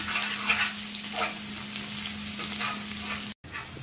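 Crushed garlic sizzles in hot oil with curry leaves, a steady bright hiss of frying close by with a faint hum underneath, cut by a brief silence near the end.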